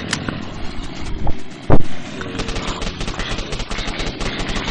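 Gunfire from the Zombiecraft video game in a courtyard level, sounding as rapid, dense clattering shots with a couple of louder sharp blasts in the middle, loud and continuous throughout.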